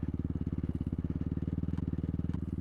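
Kovi Lite 300 enduro motorcycle riding on muddy dirt: a close, steady single-cylinder engine thrum with rapid even firing pulses, held at a constant pace for a few seconds.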